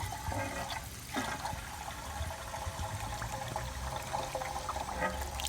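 Muriatic acid solution pouring and draining out of a rusty metal gas tank, a steady splashing trickle of liquid that runs continuously and fairly close throughout.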